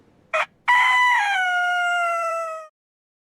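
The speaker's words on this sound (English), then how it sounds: "at the crow of a rooster" A rooster crows once, loud and close: a short opening note, a brief pause, then a long drawn-out cock-a-doodle-doo that fades into silence.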